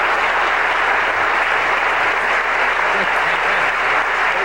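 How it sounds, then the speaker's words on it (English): A lecture audience at a 1992 talk claps for a volunteer, a continuous, dense wash of applause from many hands, steady and loud throughout. "I think you deserve a round of applause for that."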